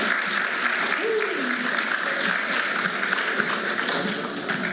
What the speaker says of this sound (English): Another round of applause for Mr. Egan.